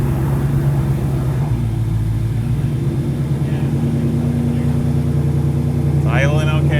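A Ford Mustang S550 fitted with a newly installed JLT cold air intake and E85 tune settles into a steady, close idle with a low, even rumble, while people talk over it throughout.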